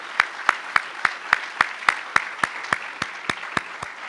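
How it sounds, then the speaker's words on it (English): Clapping at a university College of Education credential ceremony, heard as a crisp, evenly spaced series of about fourteen sharp claps, close and distinct, with a faint background hum. "So I just want to just give another round of applause to all those"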